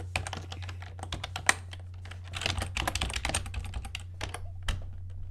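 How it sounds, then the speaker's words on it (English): Typing on a computer keyboard while entering text in a game editor, with dense bursts of clicking keystrokes in irregular clusters over a steady low hum, close and moderately loud, with no talking. "And now you want to type"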